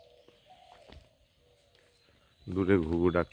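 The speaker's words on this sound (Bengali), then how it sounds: "দূরে ঘুঘু ডাকছে।" Faint coos of a dove carry from far off across a foggy village morning on the Bay of Bengal shore at Sandwip, followed by a louder, deeper harmonic call near the end.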